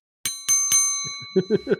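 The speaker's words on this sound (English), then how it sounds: "We can't start until the bell goes." A bell rings three times in quick, evenly spaced strokes to open a podcast debate, each ring bright and clear, followed by brief low voices murmuring.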